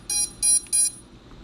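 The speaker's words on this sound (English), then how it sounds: "Buzzer." A Shendrone Squirt drone's buzzer sounds three short, loud electronic beeps in a quick even rhythm, close up over a low background hum.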